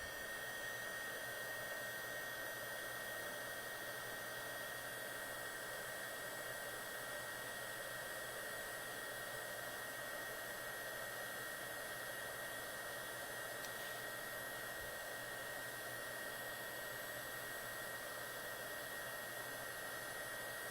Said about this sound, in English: This time I'm going to try it with the heat shield. So just turn on.